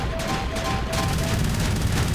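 Rapid cannon fire from the tank boss battle in Kirby's Epic Yarn, a dense, steady burst of repeated shots with a faint tonal game sound, continuous and loud throughout.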